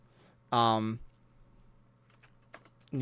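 Computer keyboard keys clicked a few times near the end, soft and sparse, after a short burst of a person talking.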